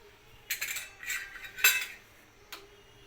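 Pots and dishes being scrubbed and washed by hand in a home kitchen, heard as a few short, close clattering bursts of metal utensils clinking against each other, with no talk.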